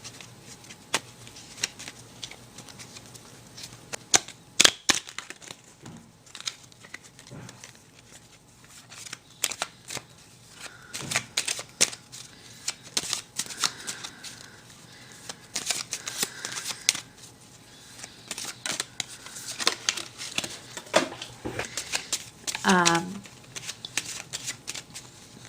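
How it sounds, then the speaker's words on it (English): A Rider-Waite tarot deck is shuffled again and again, giving dense riffling bursts of card flutter and taps, close and continuous, with faint talk in the background at times. "I will be using the Rider-Waite deck of tarot cards"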